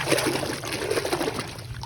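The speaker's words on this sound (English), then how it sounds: "Let's wash our muddy toys with clean and fresh water." Clean water trickles and splashes while muddy toy cars are washed, a steady close running and dribbling sound with small splatters throughout and no voices.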